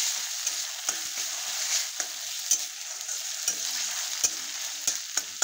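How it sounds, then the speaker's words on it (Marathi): Onion with a ginger, garlic, coconut and coriander paste sautés in a pan for chole bhaji: a steady close sizzle with sharp clicks from a stirring spoon scraping the pan. "आता हे चांगलं परतून घ्यायचं"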